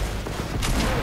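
Rapid gunfire in the shooter game Fortnite, a loud continuous burst of shots filling the short moment with no talk.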